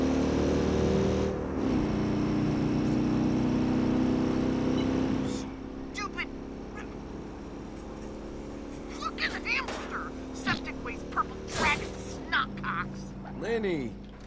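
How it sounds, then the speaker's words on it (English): A loud vehicle engine in the video game Watch Dogs 2 drones steadily for several seconds, then drops away as someone talks over scattered game sounds. "This is a loud engine."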